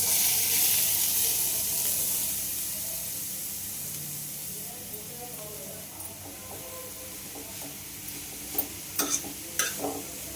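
Grated carrot goes into a hot pan for carrot halwa, giving a loud hissing sizzle that fades gradually as the mixture settles, followed by a few sharp scraping taps of a spoon stirring near the end.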